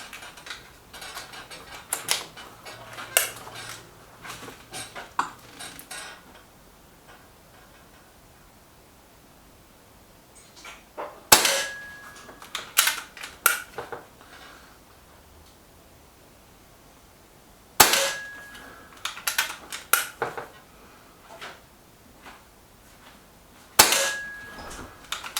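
A Reximex Accura air rifle fires skirted pellets in three sharp, isolated shots spaced several seconds apart, each a crisp crack followed by a brief metallic ring, with quieter mechanical handling noises between them.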